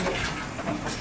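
Steady rumble of a train rolling along the rails, a continuous broadband roar with faint rhythmic clatter, close and fairly loud throughout.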